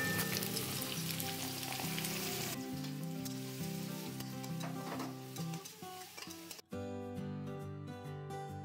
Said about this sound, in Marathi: तर मी इथे जिरे तेलामध्ये थोडेसे जिरे टाकून घेतलेले आहे। त्यानंतर कांदा